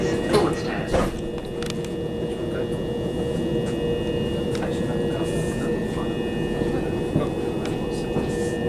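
Inside a moving Southeastern passenger train bound for London Victoria: a steady, rumbling running noise with a constant tonal whine and occasional clunks and rattles throughout.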